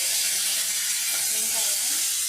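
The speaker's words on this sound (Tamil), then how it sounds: "கடுகு பொரிஞ்சிருச்சு நல்லா" Mustard seeds and curry leaves spluttering in hot oil, a steady loud sizzle and hiss with crackling pops running throughout, close up.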